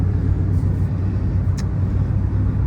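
Steady low rumbling drone of a 2006 Ford F-350 XL truck engine heard from inside the cab while driving, loud and continuous with a faint brief click partway through.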